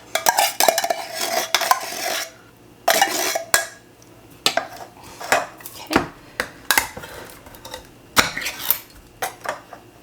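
Wet, scraping clatter of a utensil scooping thick contents from a metal can, in irregular bursts with short pauses between, close and fairly loud.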